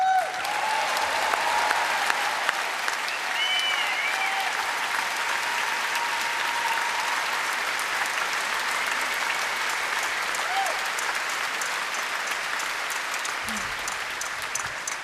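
Audience applause at the Folk Awards 2014 greeting Peggy Seeger, a full, steady clapping from a large crowd that fills the whole stretch and fades only slightly near the end, with no talk over it.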